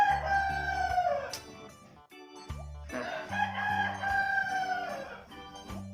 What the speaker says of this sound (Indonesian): kenapa pas segmen ayam dia ikut berkokok